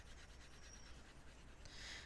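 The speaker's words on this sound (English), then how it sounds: "So I erase this." A whiteboard being wiped with an eraser: a short, steady rubbing swipe, faint and close, with no voices.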